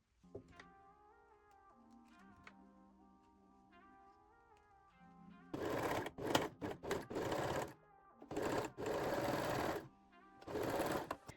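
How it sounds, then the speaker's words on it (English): A sewing machine stitches a shoulder seam on a sporty bra in several loud, rapid bursts with short pauses between them, following a stretch of quiet background music. "pin and sew the second shoulder seam"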